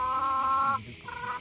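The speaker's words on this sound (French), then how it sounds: "Ici nous avons la poule à cou nu." Naked neck hen in a backyard coop clucking up close, a loud drawn-out tonal call followed by a shorter, softer one.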